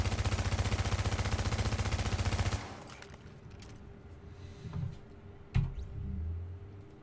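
PP-19 submachine gun in the video game The Division firing a rapid continuous burst for about two and a half seconds, then stopping, followed by quieter clicks and small game noises.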